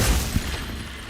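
In Hogwarts Legacy, the Glacius freezing spell lands with a low, thudding burst and crackling impact that quickly decays, heard alone without speech.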